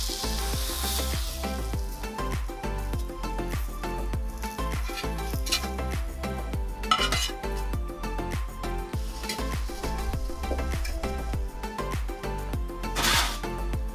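Bread fries in bacon grease on a very hot griddle of a Chargriller Gravity Fed 980, a steady crackling sizzle with dense popping and a few brief louder bursts of spattering, close and sustained throughout.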